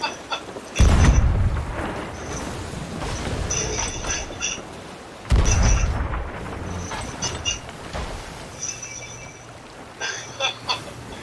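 Cannon shots fired in the pirate video game Sea of Thieves: two heavy booms several seconds apart, each with a rolling low rumble, amid clinks and other game sounds.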